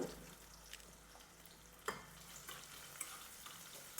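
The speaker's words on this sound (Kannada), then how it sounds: "ಉಳ್ಳಾಗಡ್ಡಿ ಹಾಕ್ತೀನಿ" Long-cut onion slices frying in a pan for a quick brinjal (eggplant) palya, a faint steady sizzle with a few soft scrapes and one sharper knock of the stirring utensil.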